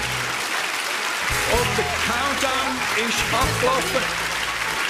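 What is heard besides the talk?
audience applause at cooking show finale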